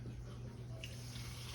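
Water is poured into a pot for old-fashioned beef stew, a steady continuous splashing and trickle close by, fairly loud and without speech.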